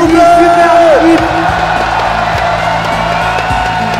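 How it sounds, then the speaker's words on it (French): An audience at a Wii Bowling final at a gaming convention claps and cheers in a loud, dense mass of crowd noise, while an announcer talks over it. "on peut applaudir Claudette bien fort"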